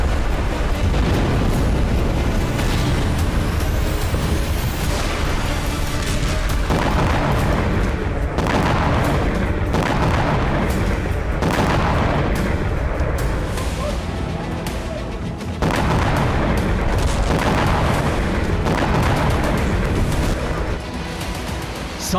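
Repeated heavy booms from missile, rocket and kamikaze drone strikes on Kyiv, loud rumbling blasts arriving every few seconds over a continuous dense roar.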